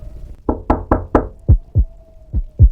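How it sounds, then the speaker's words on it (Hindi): Sharp knocks on a door at night, about ten raps in uneven clusters, close and loud, with a faint steady tone underneath. "आपके दरवाजे पर कोई नॉक करे"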